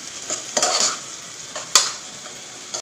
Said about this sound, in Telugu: ఇది ఆనియన్స్ అయితే మంచిగా వేగినాయి, గోల్డెన్ బ్రౌన్ కలర్ అయితే వచ్చేసింది